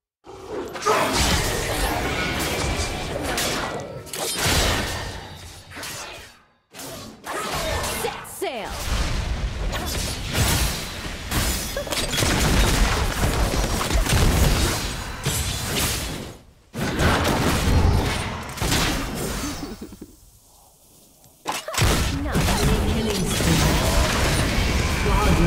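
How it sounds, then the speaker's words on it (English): A turret is destroyed in League of Legends amid loud, dense game effects: crashing booms, bursts and whooshes pile up continuously, broken by a few short silent gaps. "turret has been destroyed"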